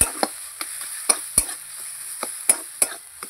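Bathua greens stir-fried in a pan: a quiet sizzle broken by a series of sharp scraping clicks and taps as the spatula works the greens, roughly every third of a second, with no voices.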